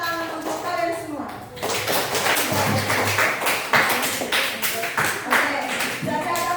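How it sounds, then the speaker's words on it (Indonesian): A classroom of students bursts into applause, with dense, lively clapping filling several seconds after a teacher's voice, and scattered chatter mixed in. "Tepuk tangan untuk kalian semua."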